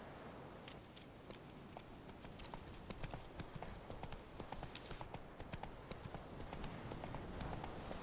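A horse's hooves clip-clop steadily in the video game The Witcher III, a fast and even rhythm of hoofbeats on the ground, moderately close, with faint background ambience and no talk.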